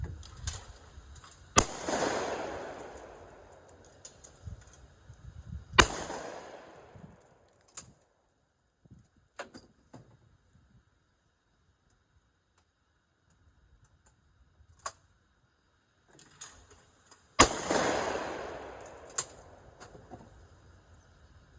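Three sharp gun reports cracking out outdoors, each with a long rolling echo. Two come a few seconds apart, followed by a long quiet stretch of faint clicks before the third. No voices are heard.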